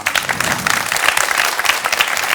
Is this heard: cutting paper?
no